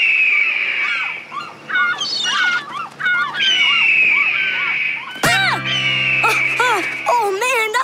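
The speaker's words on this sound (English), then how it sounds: "Audrey, play the hawk sound through the polo boat speakers. As loud as you can" A hawk call blares repeatedly at maximum volume through boat speakers, loud and harsh, then a sudden blast of sweeping shrieks cuts in with a deep honk, mixed with splashing water and cartoonish voices.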